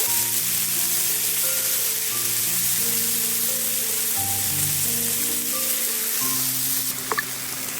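Cauliflower fries on low-medium heat in a pan for a Bengali yogurt dish, a steady soft sizzle running throughout with faint stirring scrapes and a small clink near the end, with no talk.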